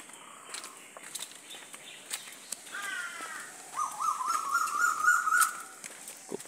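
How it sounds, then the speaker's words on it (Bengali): A bird calling in a quiet village setting, a few clear repeated calls in the middle and later part, moderately close over faint outdoor background and light movement sounds. "কোকিলের ডাক শোনা যায়।"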